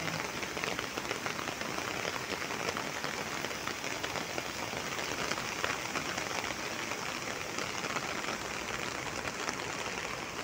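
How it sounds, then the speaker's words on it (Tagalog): Heavy rain pours down steadily during stormy weather in Hong Kong, a dense, continuous hiss of drops drumming on surfaces that stays loud and unbroken throughout. "Dahil sa sobrang lakas ng ulan."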